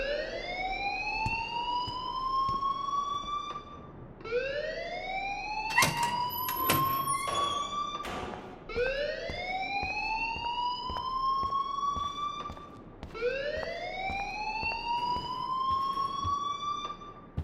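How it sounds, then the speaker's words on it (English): A fire alarm in the Life Is Strange video game wails in four repeated rising sweeps, loud and steady, with a burst of sharp clattering noise near the middle and no speech. "please turn off that alarm since that's your job"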